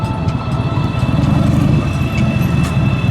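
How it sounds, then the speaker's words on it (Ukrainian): Harley-Davidson Fat Bob 114 motorcycle working through a cone course, its engine a steady, close, continuous low rumble with a constant high whine over it and no pauses. "І такий мотоцикл пролізе у будь-яку дірочку, у будь-який конус"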